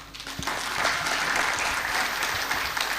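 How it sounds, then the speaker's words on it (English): An audience at a university public lecture by the Ambassador of Ukraine to Indonesia bursts into applause, building quickly into a steady, full wash of clapping that stays even and fairly loud throughout. "Give applause."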